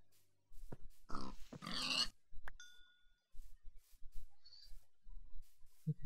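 Pig grunts in the video game Minecraft come in short, close bursts between quiet stretches, with a brief ding and a few light game effects and no talking.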